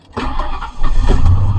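A 1998 Ford F150 engine cranks briefly and catches, rising into a loud, steady idle rumble, recorded close to the truck with no talk.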